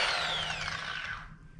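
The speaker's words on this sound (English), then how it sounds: "I'm going to drop it down to the sanding mode so you can see the stroke size" A Lake Country UDOS dual action polisher in sanding mode with an 8mm stroke whirs with a high mechanical whine that slowly winds down in pitch as it spins.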